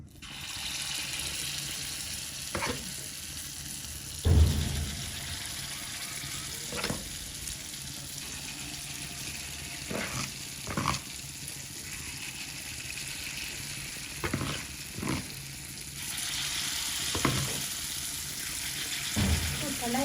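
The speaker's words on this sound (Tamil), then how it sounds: "இப்போ நான் வந்து குண்டு தோசை வந்து ஊற்ற போகிறேன்" Kundu dosa batter hissing and sizzling as it is poured into a hot pan, a steady frying crackle broken by occasional sharp clinks and scrapes of a ladle, close and moderately loud.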